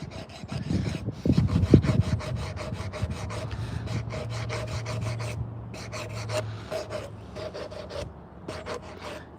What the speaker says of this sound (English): See if we can sand it out here.